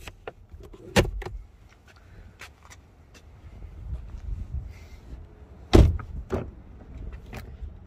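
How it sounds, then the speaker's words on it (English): A Ford Ecosport 1.0 EcoBoost Zetec's interior gives off a few sharp clicks and knocks, then a soft hum from an electric window motor between them. A louder thud comes near the end, all quiet and close, with no speech. "Four electric windows."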